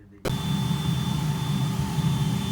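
A large casting furnace roars into life, its fan-driven injector blasting a loud, steady broadband rush with a faint tonal whine on top, starting abruptly after a brief quiet moment and holding constant.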